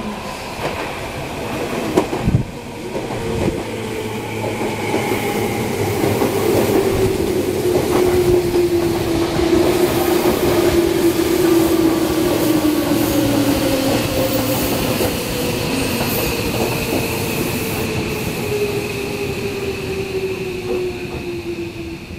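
A seven-car local commuter train rolls into Nishiarai Station at morning rush hour with a steady rumble and a long descending squeal of wheels and brakes as it slows, loud and close, no talking.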